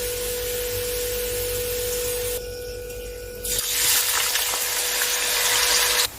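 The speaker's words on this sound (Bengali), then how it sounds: "আলুগুলো ভাজা হয়ে গিয়েছে উপরে ভেসে উঠেছে" Potatoes deep-fry in hot oil, which hisses and bubbles steadily, a dense continuous sizzle that briefly dips, then swells louder and rougher.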